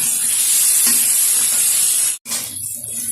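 Potato pieces frying in oil in a pan for Bengali aloo posto, a loud steady sizzle and hiss that runs without a break, with a brief dip near the end before the crackling resumes.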